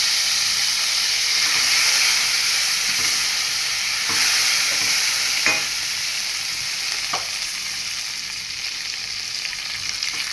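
Tempering spices frying in hot oil in a pan for a broad bean poriyal, with curry leaves to follow; a loud continuous sizzle and hiss with a few sharp pops and stirring scrapes, no talking.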